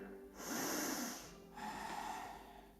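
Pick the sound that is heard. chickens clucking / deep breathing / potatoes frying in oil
deep breathing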